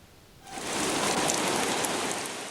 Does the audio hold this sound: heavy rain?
yes